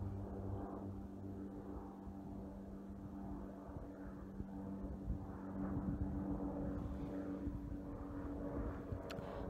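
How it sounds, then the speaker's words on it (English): An airplane passes overhead outdoors on a cold day, a low steady engine drone that swells gradually in the second half, faint and distant under a dull background hum. "There's a plane going over."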